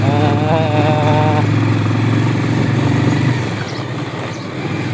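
A new motorcycle engine droning steadily and loudly while riding, close and continuous, easing slightly toward the end, with people talking over it.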